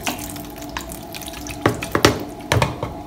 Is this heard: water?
yes